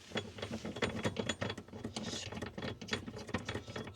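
Ratcheting clicks of a bolt being tightened back into a bracket during electric vehicle work, a rapid, close, quiet mechanical clatter that runs steadily with no talking.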